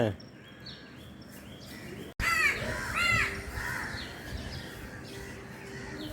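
Young crow chicks in a nest give repeated rasping caws and begging calls, close and fairly loud, starting after a brief dropout, with a voice speaking faintly underneath.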